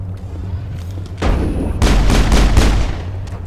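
Gunfire in the video game Mass Effect: a sudden loud burst of shots and booms, followed by a denser volley of rapid blasts, close and with no talking.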